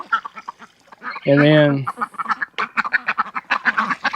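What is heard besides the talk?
black duck quacking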